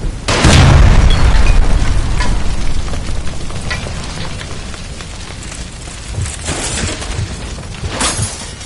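A gas line explodes indoors in L.A. Noire: one loud, close blast that rolls into a long rumble of fire and falling debris, fading slowly.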